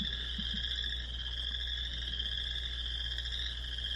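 Several chorus frogs in North Dakota call together, their creaking, comb-like trills forming a steady outdoor chorus under light wind noise.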